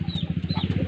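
A fighting rooster gives rapid, rhythmic low clucks, close and fairly loud, in a quick steady pulse for under a second.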